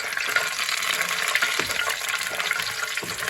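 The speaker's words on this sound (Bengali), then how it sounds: "বড়িটা ভেজে আমি তুলব।" Small bori lentil dumplings fry in oil in a pan, giving a steady, bright hiss with scattered soft pops and bubbling clicks.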